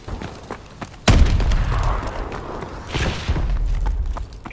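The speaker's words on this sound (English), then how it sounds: "Enemy missile strikes." Enemy missile strikes landing in Call of Duty: Advanced Warfare, a sudden heavy boom followed by rumbling debris and a second rolling explosion, loud and close.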